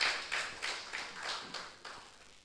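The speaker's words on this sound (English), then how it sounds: "Please let us give him a hand" Clapping from the audience at a university research dissemination symposium at Muhimbili, a scattered patter of several hands sounding for a few seconds and gradually fading.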